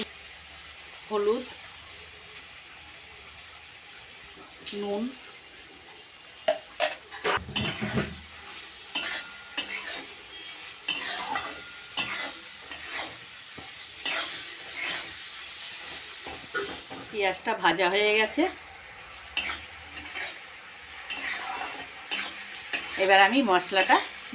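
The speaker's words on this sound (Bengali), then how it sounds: "পেঁয়াজটা আমি প্রথমে ভেজে নেব" Three large onions for a spicy mutton and potato curry sizzle in a hot pan, a steady frying hiss broken by scraping stirs and clanks of utensil against pan, with a voice speaking intermittently over it.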